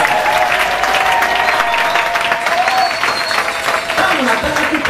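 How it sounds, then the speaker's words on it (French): Congregation applauding and cheering together at a praise and worship convention in Kisangani, a dense, steady wash of clapping and crowd noise that fills the whole stretch at full loudness. "Est-ce qu'on peut acclamer la parole de Dieu?"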